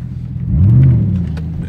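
A 2008 Chevrolet Trailblazer SS with the 6.0 V8 and about 180,000 miles, driving with a low engine rumble that swells briefly as it revs, then settles back to a steady drone, heard from inside the vehicle.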